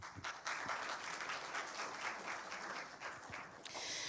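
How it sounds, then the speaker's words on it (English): Audience applause at a defense forum, a steady dense wash of clapping filling the room for about four seconds with no voices. "Please give a warm round of applause."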